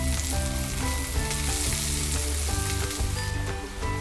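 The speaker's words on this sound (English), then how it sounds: "add onion and saute onion until golden brown" Onion sautéing in hot oil with mustard seeds, cumin and dry chilies, a dense, loud, continuous sizzle with stirring clatter throughout and no voices.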